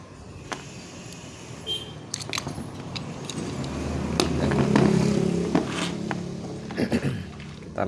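Metal tools working on the bolts of a Yamaha Vixion motorcycle's removed ignition switch: scattered clinks, taps and scraping with a short ratcheting or rubbing stretch in the middle, close and fairly faint.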